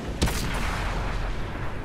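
A tank gun fires in World of Tanks, one sharp close boom near the start followed by a sustained noisy rumble of battle ambience, with no voices.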